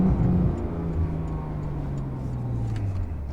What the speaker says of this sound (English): Rev matches down into first gear just like normal.